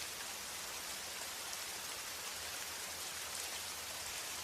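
Gentle rain falls in a steady, even hiss with no breaks, soft and diffuse, with no voices or other sounds.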